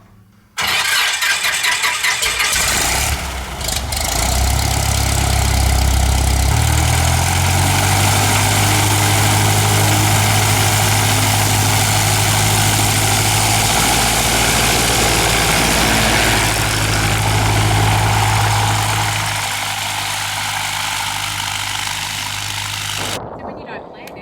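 A light aircraft's propeller engine runs steadily at idle before taxiing out for fuel, a loud continuous drone with a shifting low hum throughout, and voices in the background.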